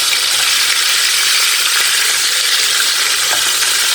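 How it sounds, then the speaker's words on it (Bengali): Fish deep-frying in plenty of oil, a loud, dense, continuous bubbling sizzle with a few faint ticks, close up and unbroken by speech. "একদম ডুবা তেলে মাছগুলো ভাজছি আজকে ভুনা করার জন্য।"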